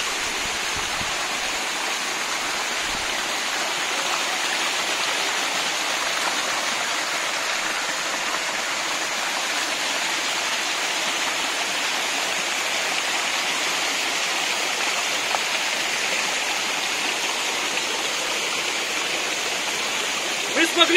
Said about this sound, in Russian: Сейчас мы будем проходить маленький водопад.